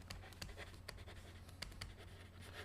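Quick, faint strokes and taps of a pen or marker writing on a board, in an uneven run of short scratches, close but quiet, with no talking.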